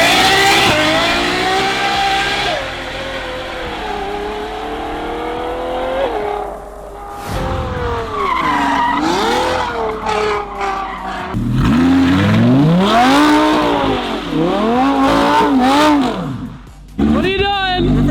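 An Audi R8 supercar doing reverse donuts, with the engine revving and rising and falling in pitch, tires squealing and skidding, loud and close, and brief voices at times.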